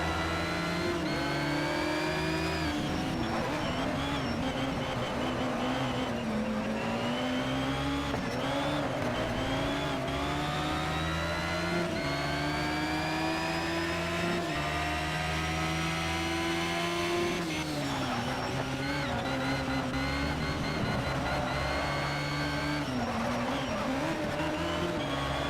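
Race car engines in Need for Speed Shift 2 as cars battle to overtake, a loud continuous high-revving whine that rises and drops with gear shifts, with no talk.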